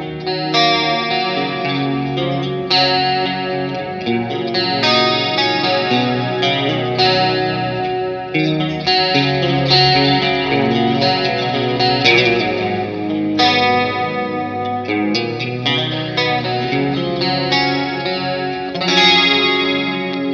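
Electric guitar played through a JHS 3 Series Octave Reverb pedal, sustained clear open-string notes and chords thickened by octave shimmer and wash of reverb, steady and loud with no talking.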